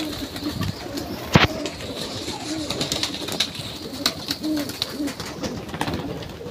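A large flock of pigeons coos in soft, overlapping low calls, with wing flaps and a sharp clatter near the start and a faint voice at times.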